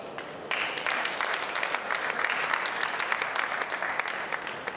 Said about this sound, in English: A round of applause for Wafa, please.